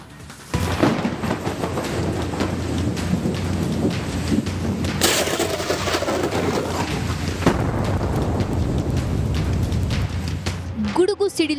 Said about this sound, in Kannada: ಗುಡುಗು ಸಿಡಿಲಿನ ಜೊತೆ ಭಯಂಕರ ಮಳೆ ಸುರಿಯುತ್ತಿದೆ